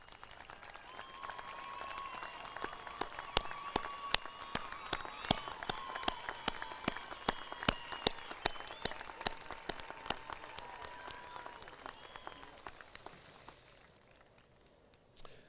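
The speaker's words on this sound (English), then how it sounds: "let's give them another round of applause" Audience at a 2021 Waynesville High School graduation ceremony applauding the school staff, sparse distinct claps at first building into steady applause that tapers off near the end, moderately distant in a large hall.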